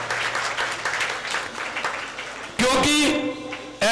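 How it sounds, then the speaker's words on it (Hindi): Audience at a Jain religious gathering claps warmly for honoured guests for a couple of seconds, then the clapping gives way to a loud amplified voice over a PA. "बहुत जोरदार तालियां बजा के इनका स्वागत करें"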